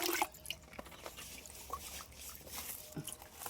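Liquid slurry is ladled and poured over Gliricidia leaves in a farm plot, giving faint, scattered drips and small trickling splashes with quiet pauses between them and no talk.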